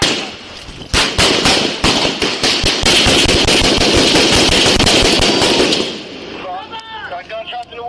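Rapid burst of gunshots in a police shooting incident in Raleigh, many sharp cracks in quick succession for several seconds, loud and close, then the firing stops and a voice is heard.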